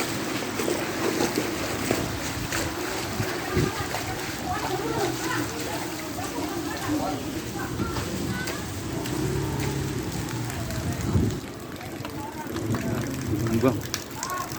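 Steady rain and gusting wind in Depok, West Java, rush and patter continuously with occasional louder bursts, while indistinct voices come and go.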